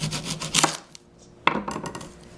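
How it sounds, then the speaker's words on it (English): Onion being cut up alongside red and green peppers for homemade pizza, a few crisp knife strikes against a board, close and fairly loud, with quieter scraping between them and no talk. "She's cutting up the onion."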